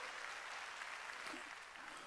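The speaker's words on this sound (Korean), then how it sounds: "깨달은 사람 박수" A church congregation applauds during a Sunday worship service, a soft, steady wash of many hands clapping that sounds faint and distant.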